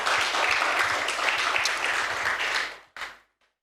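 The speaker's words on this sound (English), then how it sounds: "Shall we clap our hands and say thank you?" A church congregation claps together in a sustained, dense burst of applause that stops abruptly, leaving a brief scattered tail of a few last claps.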